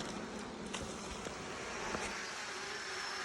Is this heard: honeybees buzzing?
yes